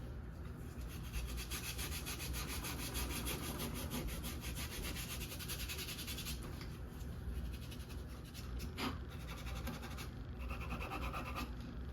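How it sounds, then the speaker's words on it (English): An abrasive Scotch-Brite pad scuffs a metal gun frame, giving a steady, close, continuous rubbing scratch with rapid back-and-forth strokes throughout, slightly easing near the end. "Now we'll go ahead and take our Scotch-Brite pad and scuff the entire frame."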